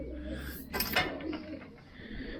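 Pigeons on neighbouring roofs coo softly with a brief flutter and clap of wings, faint over a low ambient rumble.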